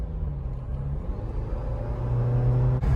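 Jeep Wrangler 4xe plug-in hybrid driving on the road, a steady low engine rumble and road noise that grows slightly louder toward the end, with no talking.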